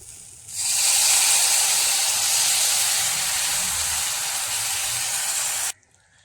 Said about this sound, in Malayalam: മുളക് ഒന്ന് വാട്ടിയിട്ട് ഇതിലേക്ക് പുളിവെള്ളം ചേർത്ത് കൊടുക്കാം.